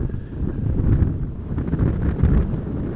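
Strong gusty wind buffets the microphone at Amsterdam Schiphol Airport during crosswind arrivals, a steady low roar with rising and falling gusts and no speech.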